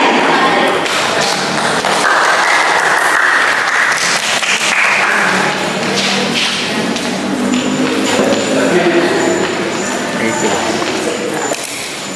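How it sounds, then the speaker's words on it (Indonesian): An audience at an Indonesian Independence Day speech contest in Watulimo gives sustained, loud applause lasting several seconds, dense clapping that gradually thins toward the end. "Beri tepuk tangan yang meriah"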